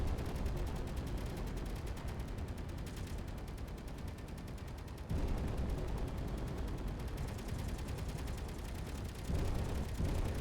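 Artillery fire in the game Space Engineers, heard as a dense, continuous roar of rumbling blasts with a few harder jolts partway through, heavy and sustained with no voices over it.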